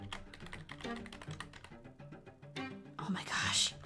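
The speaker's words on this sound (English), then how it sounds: "I wish I could type. Typing is so hard." Fingers type on a computer keyboard in quick, uneven bursts of close clicks and clacks, with soft whispered speech underneath.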